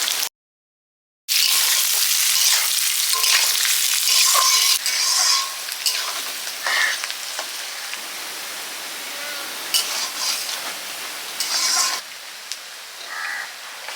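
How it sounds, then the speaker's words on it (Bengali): Onions fry on top of already-fried potatoes in a pan during Cyclone Remal, a loud continuous sizzle with stirring scrapes; a brief silent gap comes near the start, then the sizzle settles a little quieter. "আলুর ওপরে পেঁয়াজ দিচ্ছি"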